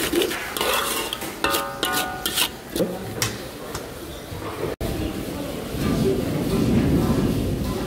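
A spoon stirring turmeric powder in a cooking pot of dal, giving scraping and clinking strokes against the metal and a brief tap, followed by sizzling cooking noise, with a voice talking over parts.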